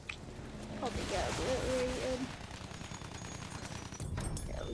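Gunfire aimed at a heavy bomber in the video game Battlefield 1, fairly faint bursts under a busy game soundscape with a brief tonal whistle partway through.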